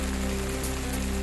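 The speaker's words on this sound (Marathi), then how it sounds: "विजांच्या कडकडाटासह गोंदियात जोरदार पाऊस" Heavy rain falls with a dense, steady hiss of drops, loud and unbroken over the brief moment, with a faint low hum beneath it.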